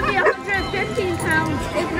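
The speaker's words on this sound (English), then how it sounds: "Is that that brown dog again?" A large brown dog barks amid a crowd at an outdoor Christmas tree lighting ceremony in Wildwood, Missouri, its yips and barks rising over steady babble and chatter.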